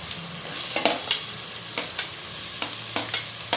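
Onions and green chillies frying in a pan for a raw prawn and gongura curry, a steady sizzle with repeated sharp scraping stirs at an even pace, close and fairly loud with no talk.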